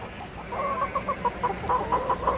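Chickens at a nomads' camp cluck in a quick, steady run of short, clipped calls that grows denser toward the end, fairly close with no talk.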